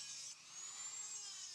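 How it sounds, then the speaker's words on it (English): A Dremel grinder fitted with a cutoff wheel cuts a groove into ivory, giving a thin, steady high-pitched whine that stays faint and continuous, with no talk. "I'm using a cutoff wheel on the Dremel grinder, and I'm basically just going to cut a groove right down the center"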